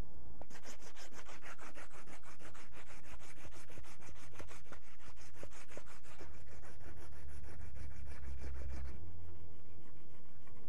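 A wooden walking stick head is rubbed by hand with an abrasive, producing a loud continuous rasping scrub in rapid back-and-forth strokes, close and without speech.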